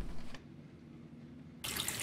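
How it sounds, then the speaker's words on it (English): Running water in a bathroom inside the horror video game Dungeon Nightmare, a soft steady trickle that swells abruptly into a louder broadband rush near the end, with no voices. "Water! Because everyone likes to have your creepy water."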